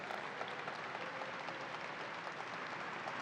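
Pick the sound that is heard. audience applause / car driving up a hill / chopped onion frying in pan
audience applause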